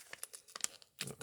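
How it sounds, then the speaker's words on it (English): A foil hormone patch pouch being torn open, with short crinkly rips and crackles in a quiet room, pausing briefly before a louder final tear. "So let's open the pouch."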